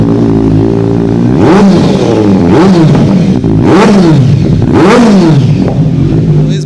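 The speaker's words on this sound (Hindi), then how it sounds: "पहले एग्जॉस्ट की साउंड सुनो फिर बताते हैं" Kawasaki superbike engine revving hard through a custom Austin Racing exhaust, four loud rising-and-falling throttle blips with deep rumble between them, close and alone.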